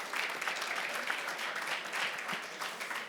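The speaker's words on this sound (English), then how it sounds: "Round of applause." Applause from an audience at a sports innovation pitch competition, a steady wash of many hands clapping that fills the short stretch at a fairly loud, even level.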